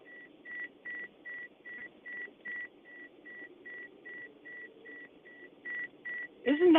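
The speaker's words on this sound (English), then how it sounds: "Isn't that beeping annoying?" Electronic beeper sounding on a house tour, a steady train of about sixteen evenly spaced, moderately loud single-tone beeps over faint background murmur, ending with a brief louder clatter.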